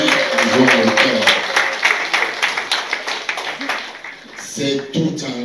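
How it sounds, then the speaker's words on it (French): Audience applauding children at a town celebration in Dschang, a burst of clapping that thins into scattered claps, with a voice speaking over it and a fresh swell near the end. "On applaudit pour ces enfants qui nous mettent à joie au cœur."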